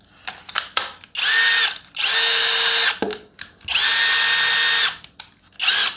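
A Skil PWR CORE 12V cordless drill driver, a standard non-hammer model, whirs in several bursts: short blips and trigger taps, then three sustained runs of steady high-pitched motor whine, each spinning up and winding down, close and loud with no talk.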